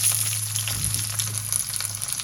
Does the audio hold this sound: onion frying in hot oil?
yes